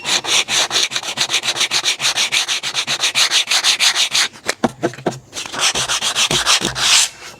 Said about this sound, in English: it's a huge dollop, so you could just kind of sand it away, hopefully